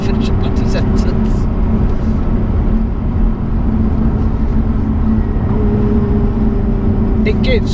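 A Lotus Evora's engine and exhaust drone loudly and steadily from inside the car on a wet road, with a constant low rumble and no clear change in pace.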